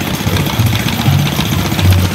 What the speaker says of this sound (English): What's this engine about? It's a 1/3 scale model of a 5-horse Galloway